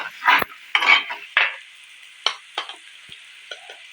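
Dried fish frying with masala in a pan for a Telangana-style dried fish curry, a spoon stirring and scraping against the pan in several bursts over a soft continuous sizzle, close by.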